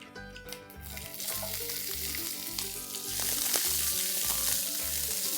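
Shredded onion fries in hot oil with spluttering cumin seeds, giving a steady, close sizzle with faint stirring, loud and unbroken with no voices.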